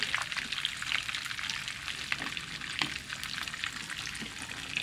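Ground meat filling for Salvadoran rellenos frying in its own juices in a pan, a continuous close crackling sizzle with faint intermittent stirring and no speech.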